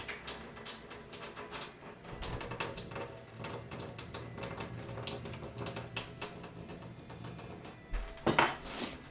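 Water runs from a kitchen tap into a sink, a faint continuous splashing with light clinks of dishes and cutlery, and a louder gush near the end.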